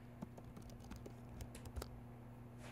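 Quiet, quick patter of keys as a password is typed on a computer keyboard, a run of light clicks over a faint steady hum.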